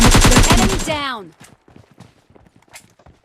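A rapid burst of gunfire from a PUBG Mobile Lite match rattles loudly for about a second, then drops to a few sparse, fainter game sounds and footsteps while players talk over the action.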